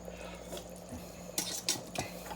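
A spoon clinks against a soup pot of minestrone, giving three or four sharp, close metallic taps at uneven intervals over a low steady kitchen hum, with no talking.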